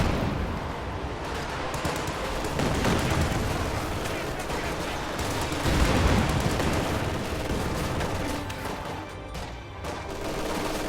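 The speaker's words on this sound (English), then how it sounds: "Katyusha, on the other hand, is proving to be rather effective." Dense barrage of Katyusha rocket artillery fire in the Company of Heroes strategy game, a continuous rumble of overlapping blasts and launches with swells of impacts around the middle, lasting throughout.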